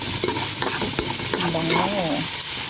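Garlic already golden and chopped onion sizzle and fry in a pan, with steady close sizzling and repeated stirring scrapes and clicks throughout.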